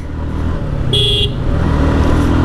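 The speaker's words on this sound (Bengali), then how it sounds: "সাথে বাইকের এক্সস্টের যে সাউন্ডটা" A 2025 Suzuki Gixxer Monotone motorcycle runs with a loud, steady exhaust drone throughout, with a brief high horn-like tone partway through.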